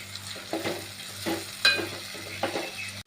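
Masala with turmeric is stirred and sautéed in a pan, giving a continuous sizzle broken by several scraping strokes of a spoon at irregular intervals, close and clear, with no voices.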